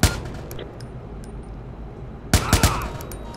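Gunfire in the video game Watch Dogs: a sharp opening shot, a stretch of low background rumble, then a quick cluster of three loud close shots near the end.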